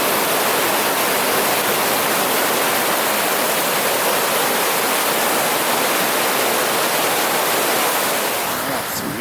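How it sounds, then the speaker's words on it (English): Loud, continuous rushing of fast-flowing river water under a bridge in Superior National Forest, Minnesota, a dense steady roar with no pauses and no voices. "Water's just racing along."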